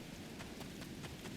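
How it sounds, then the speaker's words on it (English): Rain on the planet Ryza in the Star Trek Online video game: a steady, faint wash of rainfall with soft low rumbling beneath, continuous and even throughout. "Wow, rain on Ryza."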